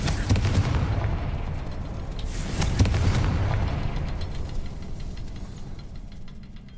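A fiery Confringo spell blast goes off in Hogwarts Legacy, a loud booming burst followed by rumbling crackle and a second impact, then fading roar.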